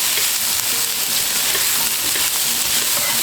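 Diced food frying in a pan on the stove, a loud, close, continuous sizzle with crackling, steady from start to finish and free of talk.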